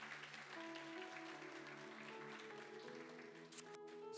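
A church congregation clapping together during a Sunday morning service, a dense, sustained round of applause heard at a distance with a soft roomy tone and a brief louder burst near the end.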